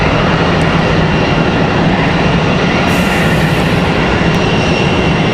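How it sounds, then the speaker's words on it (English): A Frontier airliner taxiing out for departure at Raleigh-Durham airport, a loud, close, continuous engine rumble and whine with no talk. "Got Frontier headed out for departure."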